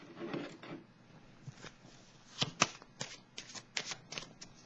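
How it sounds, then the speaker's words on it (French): Tarot cards being shuffled and drawn from a deck, a soft papery riffle at first followed by a run of crisp slaps and flicks as cards are pulled and laid down, close and fairly quiet with no talking. "Je vais piger une carte"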